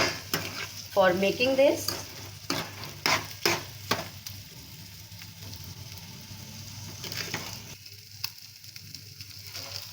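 Food with green chilies and turmeric powder sizzles in a pan as it is stirred, with sharp scraping strokes early on, then a softer steady fry; a voice speaks briefly.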